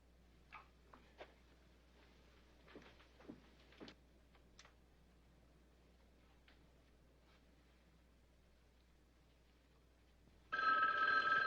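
An old-fashioned telephone bell in a classic TV mystery rings suddenly and loudly near the end, after a long, nearly silent stretch broken only by faint clicks and taps.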